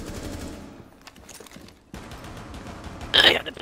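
Pistol gunfire in Rainbow Six Siege, a rapid string of shots against a busy game backdrop, ending in a sharp, louder crack near the close, with a voice talking over it.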